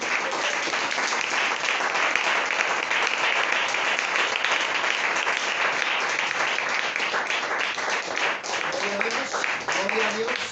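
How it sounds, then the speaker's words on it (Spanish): Sustained applause from a church congregation fills the space steadily and loudly, with a few voices rising toward the end. "Dale un fuerte aplauso a Cristo"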